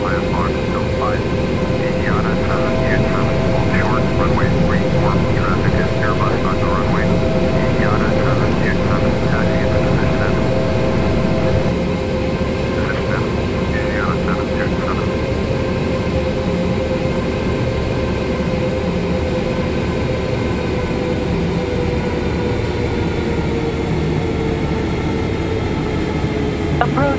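A Korean Air Boeing 787-9 takes off in Flight Simulator X, a steady loud jet engine roar that builds and holds throughout, with radio chatter crackling over it early on.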